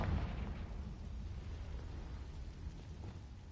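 A Confringo fire spell goes off in the video game Hogwarts Legacy as a deep, rumbling blast that stays heavy and sustained for a few seconds with no talk over it.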